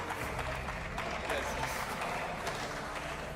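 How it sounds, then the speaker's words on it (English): Warm applause from a stadium crowd at a women's international football match, Switzerland against Germany, greeting the referees, a steady broad wash of clapping spread across the whole stretch, fairly distant and under a loud public-address and crowd ambience. "Warm applause for them."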